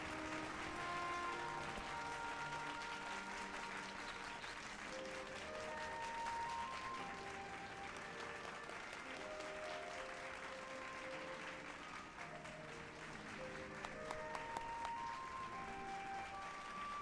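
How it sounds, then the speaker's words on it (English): Steady applause fills the whole stretch, mixed with bright, sustained musical tones from the soundtrack of the video game Final Fantasy XIV playing underneath. "I gotta give the Xenos clap"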